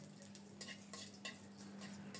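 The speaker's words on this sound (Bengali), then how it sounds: "তেল গরম হলে একটা শুকনো মরিচ আর গোটা জিরা ফোড়নে দিলাম" A dried red chili and whole cumin seeds fry in hot oil for tempering, a faint, quiet sizzle with soft intermittent stirring bursts and no talking.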